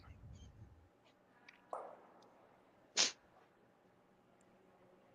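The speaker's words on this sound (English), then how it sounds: "I just sneezed" A single sharp sneeze from a curling broadcast commentator erupts once near the middle, loud and close against a quiet arena background with faint chatter.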